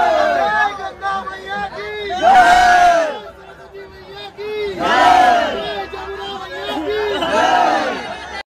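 Dense crowd packed into the general coach of a Howrah superfast express bound for Prayagraj during the Kumbh Mela, with loud bursts of shouting and clamour rising and falling over a constant babble of many voices.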